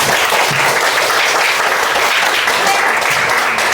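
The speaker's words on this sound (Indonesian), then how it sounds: "berikan aplaus untuk teman-teman" A classroom of students applauds their classmates after a group presentation, a dense, steady wash of many hands clapping at once, loud and close throughout.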